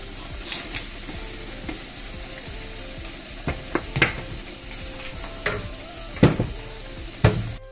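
Fenugreek seeds sizzle in hot oil at the start of a Nepali cauliflower curry, a steady crackling fry with sharp pops and clinks from stirring scattered throughout, close and fairly loud with no talking.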